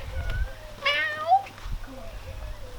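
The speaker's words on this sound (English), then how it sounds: "Oh, there's a cat." A cat meows in a home kitchen during a live vegan cooking session, one clear, rising, drawn-out meow, close and moderately loud, over a low background hum.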